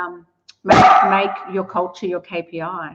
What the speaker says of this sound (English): that's my dog also saying how excited she is